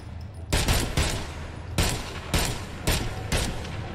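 Several loud gunshot bursts ring out in the video game Agents of Mayhem, spaced irregularly over a few seconds above a steady background hum.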